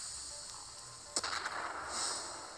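Missile explosion in the Nemesis video game: a sharp blast followed by a short burst of crackling impacts, then a rushing rumble, all fairly loud over a steady background hiss.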